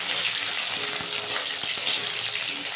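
Cut potatoes frying in hot oil in a pan for a Rohu fish curry, giving a steady, dense sizzle that holds evenly throughout with faint scrapes underneath and no voices.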